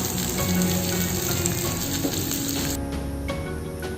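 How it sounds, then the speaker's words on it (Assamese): Chopped onions and green chilies fry in hot oil for a South Indian dish, giving a loud, steady crackling sizzle that softens slightly toward the end, with no talking. "এতিয়া মই ইয়াতে দিছো কাটি ৰখা পিয়াজ আৰু কেঁচা জলকীয়াখিনি এইখিনি দিও অকনমান সময় এনেকৈ ভাজি লৈছো"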